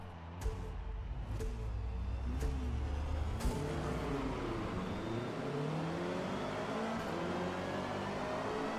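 Forza Motorsport race cars pulling away from the starting line together, a steady dense roar of revving engines rising in pitch through gear changes, with a few sharp clicks early on.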